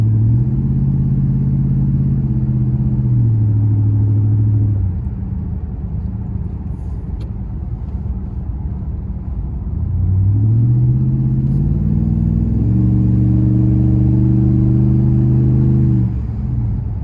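A 2004 Dodge Ram 2500 pickup engine while driving, a loud steady rumble that rises and falls through gear changes with tonal revving, heard from inside the cab.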